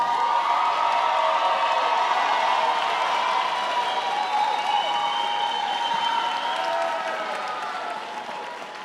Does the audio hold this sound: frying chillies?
no